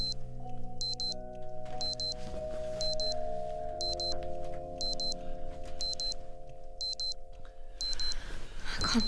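An alarm clock rings from under a bed in a room, its repeated bursts of bright electronic beeping pulsing at a steady rhythm over a low, sustained tonal hum, with no talking.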